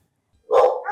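A single dog barks once, loud and close, at an animal shelter of a county humane society, following near silence.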